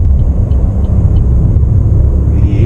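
A Chevrolet Onix Activ 2027 with a 1.0 three-cylinder engine driving on the road, a loud, low, steady engine rumble with cabin road noise, no voices.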